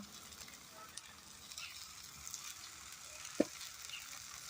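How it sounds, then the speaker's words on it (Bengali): Masala spice paste with cumin powder sizzling steadily as it is sautéed in oil for Bengali rui fish tok jhal, a continuous close hiss with occasional light clinks of stirring. "মশলাটা ভালো করে কষাতে থাকবো।"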